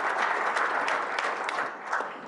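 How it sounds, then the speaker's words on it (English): An audience at an evening school event bursts into a steady round of applause, a dense wash of many hands clapping that fades slightly toward the end. "Let's give her a round of applause."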